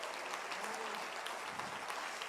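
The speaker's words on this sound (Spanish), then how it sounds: "Dale un fuerte aplauso al Señor Jesucristo." Congregation applauding loudly in a church, a steady dense wash of many hands clapping throughout, with faint voices mixed in.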